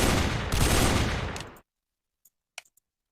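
Rapid, heavy automatic fire from a DShK 1938 heavy machine gun in the World of Guns game, a loud dense burst lasting about a second and a half that cuts off abruptly, followed by a few faint mechanical clicks.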